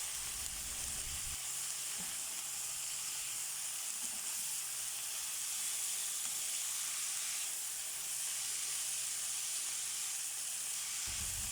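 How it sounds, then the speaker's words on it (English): Bamboo shoots stir-fry in a hot pan with a steady, bright sizzle and hiss, constant and fairly loud throughout, with faint stirring scrapes underneath and no voices. "Now the bamboo shoots go into the mix"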